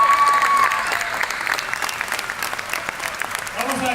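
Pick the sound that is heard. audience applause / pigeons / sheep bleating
audience applause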